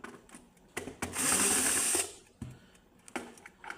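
Electric screwdriver running in one steady whirring burst of about a second to remove screws from an oil-free air fryer casing, surrounded by close clicks and knocks of handling.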